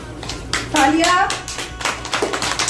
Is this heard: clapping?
yes